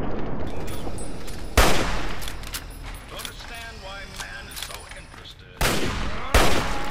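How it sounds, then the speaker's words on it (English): Gunfire in the Fallout 3 video game inside a planetarium, with several loud, sharp blasts spaced apart over a bed of mechanical game ambience and creaking. "Stop shooting in a planetarium."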